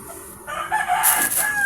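A native labuyo chicken gives a short, loud crow-like call close up, rising and holding briefly, with no voices over it.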